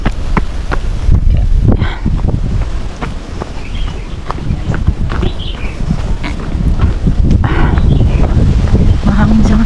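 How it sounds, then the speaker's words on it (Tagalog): Steady wind noise buffeting the microphone outdoors on the Lung Ha Wan (Lobster Bay) country trail, with rustling and some movement sounds throughout, and brief voices in places. "Mahangin siya ngayon."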